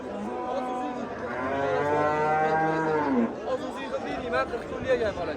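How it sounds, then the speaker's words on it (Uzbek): At a cattle market in Bostanliq district, a cow gives a long, drawn-out moo close by. Afterward people talk and murmur against a busy background. "Mana keyingi sigirimiz."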